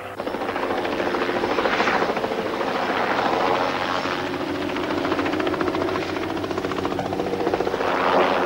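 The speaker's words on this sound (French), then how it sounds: "Barbara, hélicoptère, m'entendez-vous?" A helicopter drones steadily overhead, its rotor thumping in a fast, even rhythm under a loud engine whine.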